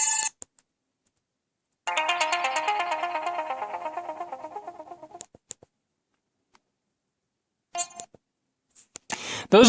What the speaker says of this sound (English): Those are the only alarm sounds you have, by the way.